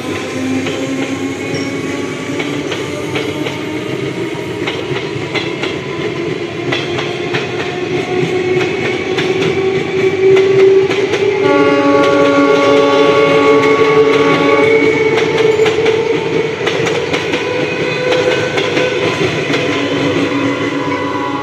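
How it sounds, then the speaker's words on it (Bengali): Galloping Ranaghat local train passing, a long rolling rumble with rhythmic wheel clatter and sustained whining and squealing tones that swell in the middle and ease off toward the end. "এটা হচ্ছে গ্যালোপিন রানাঘাট লোকাল 4টে 25"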